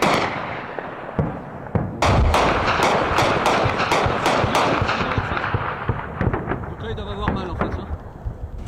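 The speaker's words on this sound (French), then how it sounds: "C'est du gros obus, hein. C'est pour ça que ça fait du bruit." Heavy 20 mm cannon shells fire and burst in a rapid string of sharp, loud booms that echo over a constant rumble, with talk underneath.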